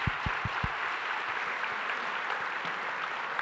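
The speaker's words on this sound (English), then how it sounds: "Please give them a round of applause." An audience applauds a panel at an education and learning event, a dense, steady wash of clapping that fills the room, with a few low thumps at the start.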